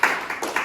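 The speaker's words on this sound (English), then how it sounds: "A round of applause." Brief burst of applause from a small workshop group clapping for a participant, dense and close, under a second long.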